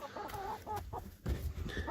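Chickens cluck softly and intermittently nearby inside a coop, with low thumps and some shuffling underneath.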